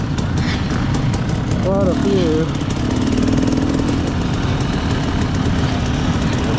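A field of motorcycles idles on the start grid of a Sorcs 55+ race at the TN River Rampage in Decatur, Tennessee, their engines a loud, steady drone while a nearby voice speaks briefly over it.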